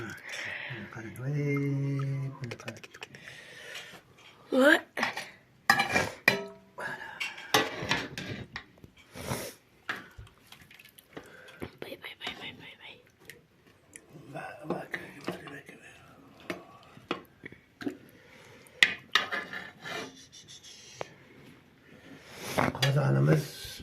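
Metal clanks and scrapes as a big cooking pot and its lid are moved about, in scattered bursts between frequent stretches of talking.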